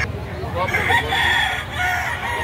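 A gamefowl rooster crows loudly and close by in one drawn-out call, with faint background noise underneath.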